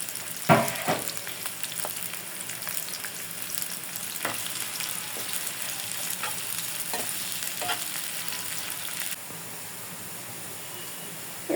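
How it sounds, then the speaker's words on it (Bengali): Chopped onion and garlic fry in hot oil for greens, a steady loud sizzle with repeated stirring scrapes and clicks, then a quieter, even hiss near the end. "তেল গরম হয়ে গেছে, পেঁয়াজ রসুন দিয়ে দিলাম।"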